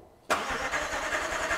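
A McLaren 675LT cold start: quiet, then an abrupt loud engine catch that settles straight into a close, fast, throbbing high idle.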